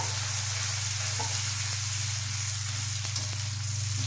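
Green chilli, garlic, curry leaves and coriander sautéing in a hot pan, a continuous close sizzle and hiss with a few soft stirring clicks, no talking.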